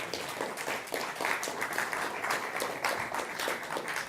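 Steady applause from a crowd, many hands clapping in a dense, even wash that holds for several seconds.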